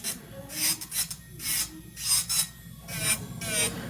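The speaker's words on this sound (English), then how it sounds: "You guys notice when I'm drilling this, I'm not drilling the same way." Electric nail drill filing an acrylic nail, heard as repeated close, raspy grinding strokes that rise and fall in short bursts at a steady rhythm, with no talk.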